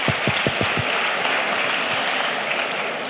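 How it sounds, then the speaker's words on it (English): An auditorium audience at a conference gives a sustained round of applause, with even, dense clapping that carries steadily and eases slightly toward the end. "I think we all deserve a round of applause."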